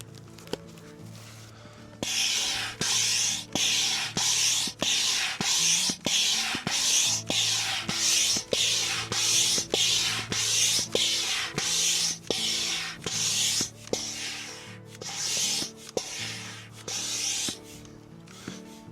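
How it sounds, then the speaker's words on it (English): An air pump inflates a Swift Basecamp awning tube, working steadily in rhythmic strokes, each a rushing, hissing pulse of air, repeating evenly for many seconds at close range. "Get the pump going."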